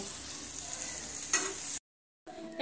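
Fried peas are stirred in a pan, giving a soft, steady sizzle with a brief scraping stir, then a short cut to silence before the sizzling picks up again, quiet and close.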